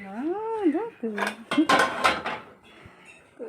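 Aluminium pots and pans are handled in a shop, giving a cluster of loud metallic clanks and rattles after a short stretch of voice at the start.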